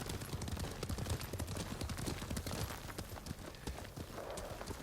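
Horse hooves gallop in rapid, driving beats in the Ghost of Tsushima video game, moderately loud and close, with a faint rattle of tack beneath and no one talking.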